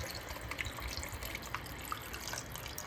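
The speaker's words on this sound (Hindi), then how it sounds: "यहाँ पे ना मैं इसके अंदर पानी डालती हूँ" Water pours steadily into a cooking pot in a home kitchen, a soft continuous splashing trickle with light drips, heard alone without talk.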